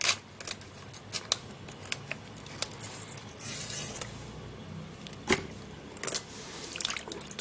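A plant's head being chopped off, a run of close, quiet crisp cuts and snips with small wet squishing and handling noises between them.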